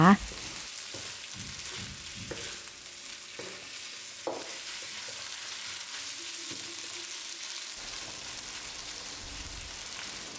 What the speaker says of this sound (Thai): ผัดเนื้อหมู กับพริกแกงไปเรื่อยๆนะคะจนกระทั่งเนื้อหมูสุกดีนะคะ